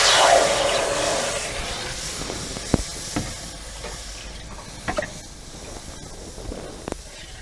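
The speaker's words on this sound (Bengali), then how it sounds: "কড়াই বসিয়ে দিয়েছি, এবার এতে জল দিয়ে দেবো।" Water poured into a hot wok, set up for steaming fish, bursts into a loud broad hiss that fades over a second or two into a soft steamy rush with a few scattered clicks and knocks.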